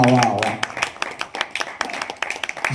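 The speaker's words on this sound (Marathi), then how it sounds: "जोरदार टाळ्या झाल्या पाहिजेत या आपल्या लाडक्या जोडीसाठी" An audience applauds a couple on a Marathi television stage, with a brief voice at the start followed by scattered, uneven claps.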